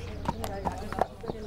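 A large East Frisian horse's hooves strike the ground in a walking rhythm, four or five distinct clip-clop beats over a low background with faint voice-like murmur.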